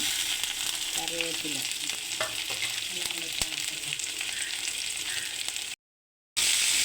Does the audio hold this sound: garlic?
yes